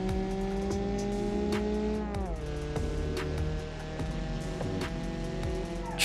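Car with a swapped Niva engine accelerating in a BeamNG drag race, a loud buzzing engine climbing through the revs, dropping on gear shifts with a brief tire chirp, steady and close throughout.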